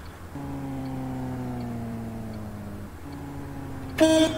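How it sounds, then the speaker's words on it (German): A long, steady bus horn in the OMSI 2 simulator game, on a MAN bus in Vienna, blares with a low droning tone, breaks briefly, sounds again, then a brighter, harsher honk cuts in at the end. "Hupe funktioniert auch."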